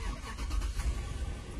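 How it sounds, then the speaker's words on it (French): A car engine starting, a short low rumbling crank catching into a running engine, close and steady, with no talking. "Ici on va démarrer."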